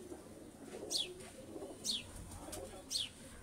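Sialkoti pigeons coo in soft, repeated low murmurs, with three brief, sharp high chirps spaced about a second apart over a steady background; no talking.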